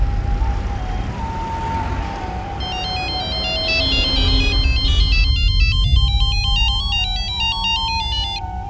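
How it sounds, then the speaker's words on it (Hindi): An electronic phone ring plays for an outgoing call, a bright repeating warbling tone pattern filling most of the clip over a low background hum, fairly loud and close with no talk. "रुको, मैं शीतल को फोन करता हूँ।"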